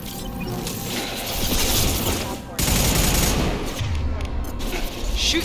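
Gunfire in the sci-fi shooter Mass Effect 2 rattles in dense, continuous bursts alongside mechanical clatter, loud and up front, with in-game voices briefly heard.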